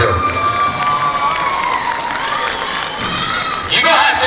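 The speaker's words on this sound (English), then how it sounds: "give a round of applause to all these beautiful kids up here" A crowd cheers and whoops at the Heiva San Diego pageant, with children shouting amid a steady wash of voices that swells louder near the end.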